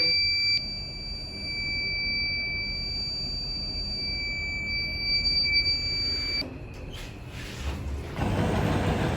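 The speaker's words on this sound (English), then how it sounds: "Every single time I go in the elevator, there's a fire alarm." A fire alarm shrills inside an elevator, a steady high electronic tone over a low hum that holds for about six seconds, then cuts off before a burst of rustling noise.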